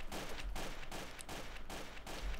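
Rapid bursts of gunfire in the online game Trouble in Terrorist Town, about five sharp, close shots in quick, fairly regular succession with no talking.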